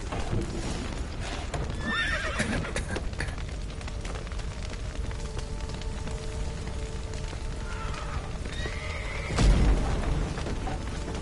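Horses neigh and whinny amid galloping hoofbeats in the video game The Witcher 3 next-gen, with a shrill whinny early and another near the end over a constant rumbling background.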